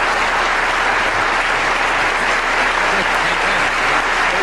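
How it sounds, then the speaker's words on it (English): Loud, dense applause from a live convention audience fills the whole stretch steadily, a continuous wash of clapping from a large crowd with no break. "I think you deserve a round of applause for that"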